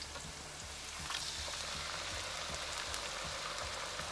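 Canned diced tomatoes cooking in a pot for vegan pinakbet give a steady, quiet hissing sizzle with faint bubbling, unbroken and without any talking.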